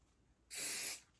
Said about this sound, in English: and then just spray it like that